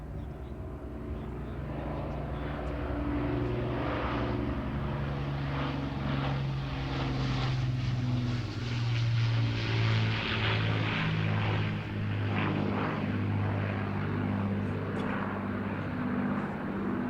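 An Avro Lancaster bomber of the BBMF makes a sunset flying display at the Ayr Show, its four propeller engines droning loudly and steadily throughout with a throbbing, beating tone that swells as it passes close overhead.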